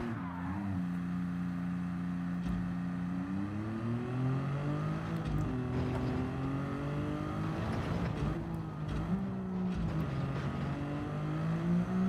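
Racing video game car engines drone continuously, rising and falling in pitch as gears shift and several cars rev, loud and steady throughout with no talk.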